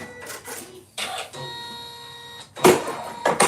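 An embroidery machine stitches a clutch held in its hoop, sending out bursts of rapid mechanical stitching that pause and start again, with a steady whirring motor hum between the louder, clattering runs.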